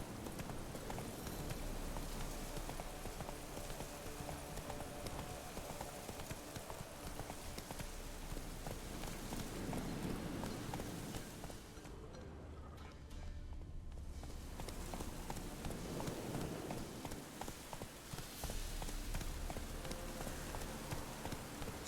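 Horse hooves in The Witcher 3, a steady rhythmic clip-clop of a horse at pace, continuing for a long stretch with a short lull midway, faint and unbroken by talk.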